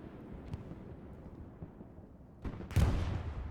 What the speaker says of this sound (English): More explosions going off.